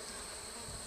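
Bees buzz in a dense, continuous drone around an open modified Warre hive during an inspection, close and even in level throughout.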